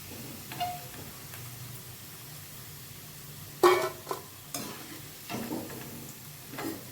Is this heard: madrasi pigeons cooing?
no